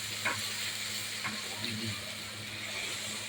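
Spice masala frying in oil on a large stove, a steady broad sizzle with a few louder scraping stirs near the start and middle, close and continuous with no talking.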